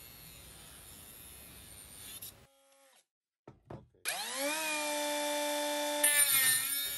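A cordless 12V brushless angle grinder with a 76mm disc cuts a 16mm steel tube with 1mm walls: a brief knock and clatter, then a loud, steady high whine of the motor that continues to the end.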